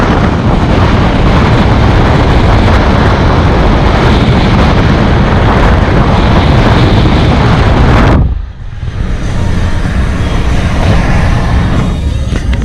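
Wind roars loudly through an open car window while driving on an American road, a constant heavy buffeting rush that briefly drops and thins before surging back.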